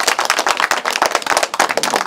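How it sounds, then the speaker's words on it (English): A small group claps together for about two seconds, a quick, close, steady patter of hand claps with no other sound. "Clap for yourself."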